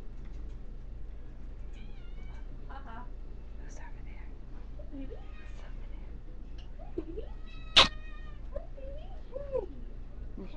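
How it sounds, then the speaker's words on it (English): A cat meows softly several times amid quiet whispering voices, with one sharp, louder meow near the end. "You hear the kitty?"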